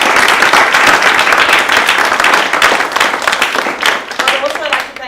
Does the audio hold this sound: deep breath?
no